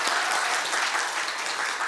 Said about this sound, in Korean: 네, 박수 한번 하십시다.